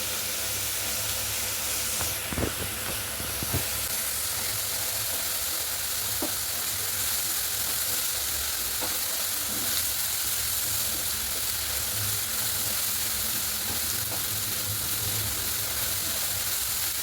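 Sliced onions frying with salt in a pan for a Kerala-style crab curry, a steady bright sizzle close by with a few sharp clicks of stirring and no voices.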